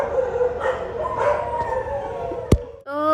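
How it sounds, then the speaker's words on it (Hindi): Dogs barking and howling outdoors in the early morning, a sustained mix of howls and yips at moderate distance, ending in a single sharp, loud bark-like burst. "कुत्ते भौंक रहे हैं।"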